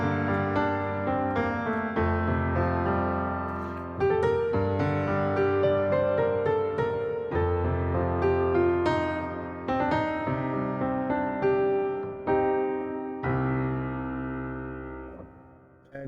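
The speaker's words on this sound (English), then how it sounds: "the first thing is the Chroma grand piano from Sonoscore. I really like this one, it has a great sound already." Chroma grand piano virtual instrument from Sonoscore playing a slow melody over sustained chords, full and resonant with long decaying notes, alone and fairly loud with no voices.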